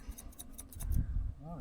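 Scissors snip at hair during a haircut, several quick crisp cuts close by in the first second, followed by low murmuring voices and a brief high tone near the end.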